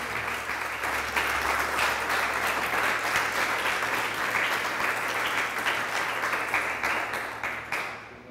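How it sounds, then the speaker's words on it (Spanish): A church congregation claps for Christ in a strong, dense burst of applause that holds steady for several seconds before tapering slightly at the end. "Le damos un fuerte aplauso a Cristo"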